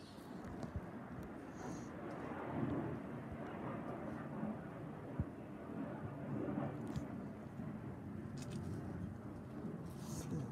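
A Eurofighter Typhoon jet roars over the Boscombe area during a Red Arrows display, a broad, sustained distant rumble that swells and fades, with occasional voices nearby.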